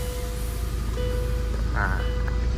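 Tata 2.2 diesel engine running at a steady idle, a low continuous drone with faint thin electronic tones over it, close and even throughout.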